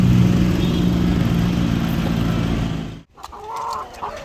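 White Leghorn cross Black Australorp chickens on a farm give a dense, steady clucking and fowl chatter for about three seconds, loud and close, then cut to a quieter scene with faint bird calls.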